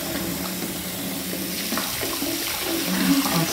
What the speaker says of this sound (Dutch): Ik denk als je even de douche opzet, dan krijg je een houtband.